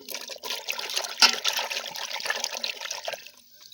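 Running water from a tap splashes over winter vegetables such as carrots, potatoes, eggplant and radish as they are washed in a kitchen; a steady close rush with small shifting splashes, no talk.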